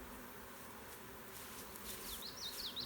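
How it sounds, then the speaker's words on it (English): Honeybees buzz faintly around a hive frame as it is shaken, a soft continuous drone with a few thin high chirps toward the end and no talk. "What are you doing shaking bees off it?"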